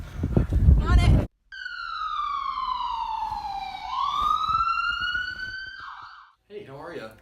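An ambulance siren wails in long sweeping tones, loud and close, after a brief burst of noise at the start, with a voice starting up at the very end.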